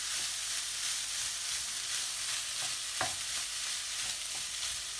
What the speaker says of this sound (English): now we're adding the rice. So this is for 2 people. Just going to stir fry that